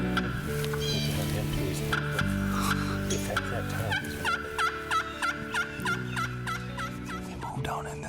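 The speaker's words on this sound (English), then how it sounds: "There's a bird that gobbled on the other side up over here" A wild turkey gobbles in a wooded valley during a spring hunt, a few rattling gobbles carrying from some distance over steady outdoor background sound.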